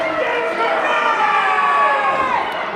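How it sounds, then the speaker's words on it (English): Wrestling crowd at the Empowered Sports Center roaring and cheering in a steady, loud wash of voices, with shouts and whistles rising through a sustained reaction. "you hear the reaction from the crowd"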